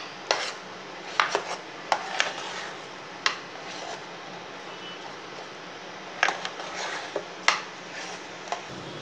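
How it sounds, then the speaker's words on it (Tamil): Paruppu halwa is stirred with ghee in a pan over a low flame: a spoon clinks and scrapes against the metal at irregular intervals over a soft, steady background, with no talking. "நல்லா நெய் விட்டு விட்டு கிண்டிக்கிட்டே இருக்கணும்"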